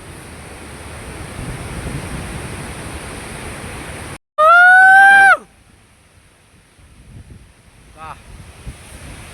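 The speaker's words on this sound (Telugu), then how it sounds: "వాటర్ఫాల్ వేరే లెవెల్ కదా" The Mankadadian waterfall in Odisha gives a steady, rushing broadband roar for about four seconds. A loud, piercing whistle-like tone then cuts in briefly, and a quieter ambience follows.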